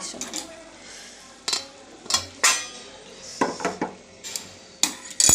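Cooked fish curry scooped from a pan into a bowl: a metal spoon scrapes and clinks against the pan and dish in sporadic, close knocks with quiet gaps between.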